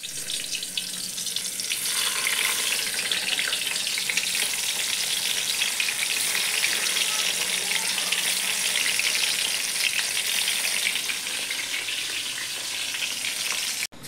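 Eggplant slices (begun bhaja) frying in hot oil for a festival offering, a loud, steady, close sizzle that holds evenly throughout with no talk.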